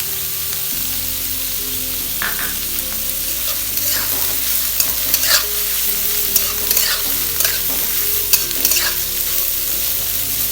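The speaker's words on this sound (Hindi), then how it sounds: "ये अदरक बारीक बारीक जो स्लाइस करके रखे थे वो उसमें डालूंगी, और ये जो लहसुन मैंने रखा हुआ था वो भी इसमें ऐड करें।" Finely sliced ginger and garlic sizzle steadily in a hot pan, with scraping stirs and crackling pops recurring throughout, loud and close with no talk.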